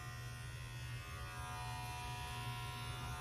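An electric trimmer cuts hair with a steady, close buzzing drone that holds unbroken at an even level from start to finish, and no one speaks over it.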